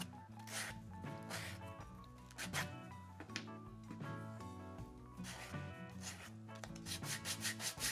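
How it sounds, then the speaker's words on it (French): Recycled wooden battens being sanded by hand, with repeated close rasping strokes rubbing back and forth in an irregular rhythm, loud and continuous with no talk. "Là, on frotte un petit peu aussi la surface pour que la teinture pénètre bien."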